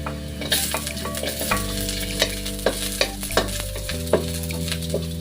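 Ginger and garlic fry in a pan under a loud, close sizzle with repeated stirring clacks, while sustained background music plays throughout.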